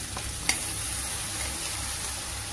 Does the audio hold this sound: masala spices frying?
yes